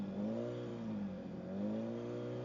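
A Suzuki Hayabusa Gen 3 motorcycle engine holds a steady, smooth rev before a launch attempt, its tone dipping slightly and rising again, close and unbroken throughout.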